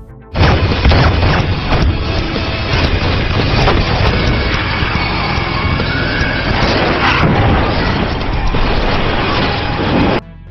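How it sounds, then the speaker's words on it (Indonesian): Loud gunfire erupts in a film shootout, dense bursts of shots and booming impacts filling nearly ten seconds with little break, overlaid with crashing and mechanical clatter. "Sehingga terjadilah baku tembak di antara mereka."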